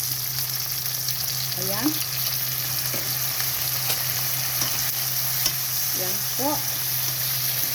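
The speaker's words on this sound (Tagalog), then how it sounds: "Gisa na yung ating kamatis." Tomatoes sautéing in a hot pan for a spicy clam and celery dish: a steady, close sizzle with occasional stirring scrapes, while a voice speaks briefly.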